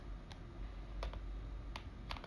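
Several quick, faint keystrokes on a computer keyboard while entering a cell range in AutoCAD, spaced irregularly over a low steady background hum, with no talking.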